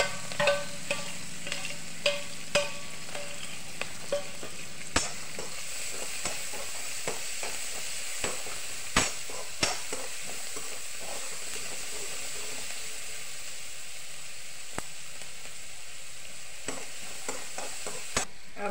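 Green chilies and onion fry and sizzle in hot oil, a steady hiss broken by repeated sharp clicks and scrapes of a stirring spoon against the pan, close and fairly quiet with no talking.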